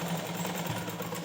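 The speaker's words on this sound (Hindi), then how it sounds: "फिर यहाँ पे सिलाई लगाएंगे" A sewing machine stitches fabric for an umbrella-style ghagra skirt, giving a steady, close mechanical whir with a fast rhythmic hum and no talk.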